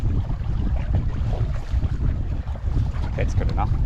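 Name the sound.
gusty wind on a sailboat at sea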